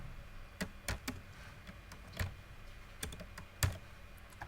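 Computer keyboard keys tapped out while writing Python code, a handful of separate clicks spaced unevenly with short pauses between, close and clear, no speech.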